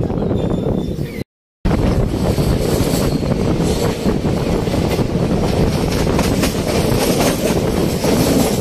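Steady rumble and rattle of a moving passenger train, recorded inside a coach of the Dadar Express on its way to Mumbai, with continuous wheel noise and wind roar and a brief dropout near the start.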